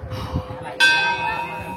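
A metal temple bell in Hampi, India, is struck once, sharp and bright, and rings on with a shimmering tail over a low murmur of voices and crowd noise.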